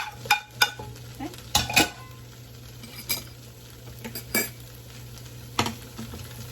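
Fried rice with pineapple being stirred in a pan in a Lao kitchen, with a spatula clinking and scraping against the metal in irregular bursts over a soft background sizzle and a steady low hum.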